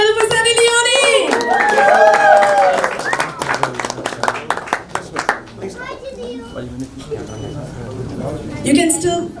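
An audience claps loudly to welcome the actress and model Sunny Leone at a conference. The applause runs throughout as a dense wash of many hands, with a host and excited voices talking and cheering over it.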